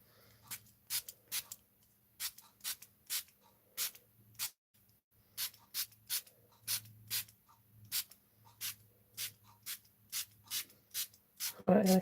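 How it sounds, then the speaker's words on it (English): Short hissing bursts from a spray bottle misting pigment sprinkles onto a handmade card, about twenty quick pumps in an uneven rhythm, close and crisp over a faint low hum. "Right, I'm going to keep spraying that."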